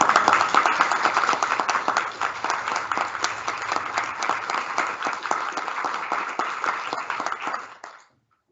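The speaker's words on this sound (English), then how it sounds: "you deserve, I know all of you do, a round of applause for leading Mullingar General Hospital during the COVID" A sustained round of applause from an audience at an NMBI event at TUS Athlone, honoring the leaders of Mullingar General Hospital, dense and steady throughout before tapering off abruptly near the end.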